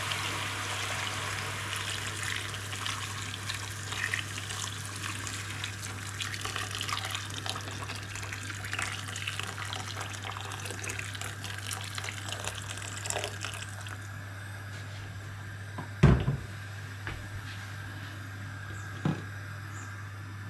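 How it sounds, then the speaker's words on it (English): Water poured into a pot of spinach as a continuous gentle splashing stream, followed by a couple of sharp knocks near the end. "And I'm gonna cover it with water."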